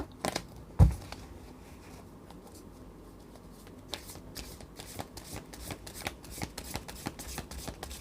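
Tarot cards are shuffled by hand in a quiet room: one sharp tap, a stretch of near silence, then a run of soft, quick riffling and flicking card sounds, close and faint, with no voices.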